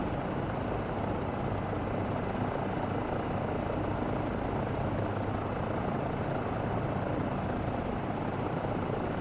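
A Eurocopter EC135 helicopter in Microsoft Flight Simulator 2024 flies slowly over a town, its rotor and turbine drone holding steady and even throughout with no voices over it.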